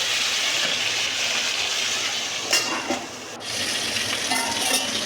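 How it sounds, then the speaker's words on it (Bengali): Whole sarputi fish fry in hot oil in a kadai, giving a loud, steady close-up hiss and sizzle with a few brief crackling bursts and no voices. "আমাদের এখানে মাছ ভাজা হচ্ছে"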